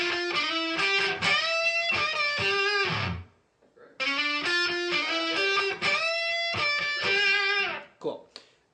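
A guitar lick is played alone with no backing track: a bright, slightly driven melodic phrase of quick picked notes, repeated twice with a brief pause between, close and fairly loud.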